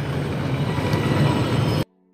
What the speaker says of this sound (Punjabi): ਇਹ ਟ੍ਰੇਨ ਹੈ ਸਾਡੀ ਪ੍ਰੈਸਟਨ ਦੀ